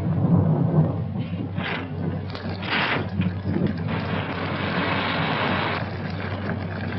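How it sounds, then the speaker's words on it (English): A storm from a 1942 film, The Corpse Vanishes, brings gusting wind and heavy rumbles of thunder: a loud, continuous roar with a few stronger swells, in muffled old-film sound and with no talking. "I think it would be foolish to go out in such a storm."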